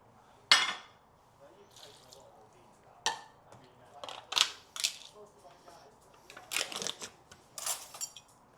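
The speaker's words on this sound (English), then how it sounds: "You get your pressure cooker, you put it in the tin, all of the ingredients together." Ingredients for shredded Cajun chicken going into a pressure cooker tin, with close clatters, light knocks and wet drops in scattered bursts against a quiet background.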